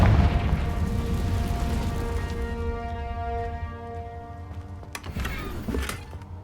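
A Confringo exploding spell goes off in the Hogwarts Legacy video game, a loud low boom opening the clip and rumbling away under layered game music, with a sharp burst near the end.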